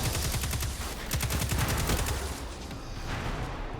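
Grenade and weapon fire in the Destiny 2 beta: rapid, loud bursts of shots crowd together in the first half, then thin out into a denser rumble.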